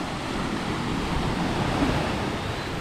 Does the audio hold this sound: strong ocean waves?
yes